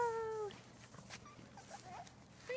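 Puppies in a pen whimper with thin, high, drawn-out whines, one at the start and another near the end, over a quiet low background with faint scuffling.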